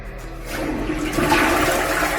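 A Japanese toilet in a Tokyo apartment flushes close by, a rushing surge of water that builds and swirls steadily for a couple of seconds.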